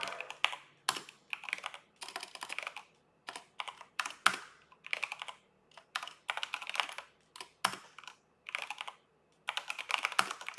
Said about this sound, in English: I'm almost done typing,